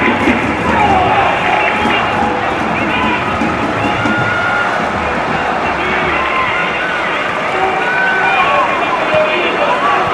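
At a Roma women's football match, the crowd keeps up a loud, steady roar of cheering and noise with no breaks, while a commentator talks over it.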